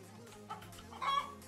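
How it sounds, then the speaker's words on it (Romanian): Chicken clucking from a video game's catapult chicken, a few short clucks rising in the second half over a quiet background hum. "Găina catapultă lovește din nou."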